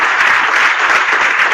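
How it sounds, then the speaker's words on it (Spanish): Seminar attendees on sustainable business development give a brief, loud burst of applause, dense, even clapping filling the room. "Pero igual dennos un aplauso por lo menos."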